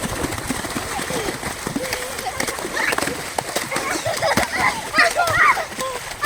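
People splashing river water by hand at a river, irregular splashes under close voices talking and calling out, with bird calls in the background.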